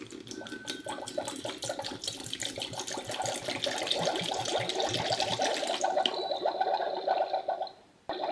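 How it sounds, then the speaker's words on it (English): Liquid potion is poured into a Disney Encanto toy cauldron, a steady close-up gurgling splash that runs for several seconds before cutting off abruptly. "Alright, let's pour it in."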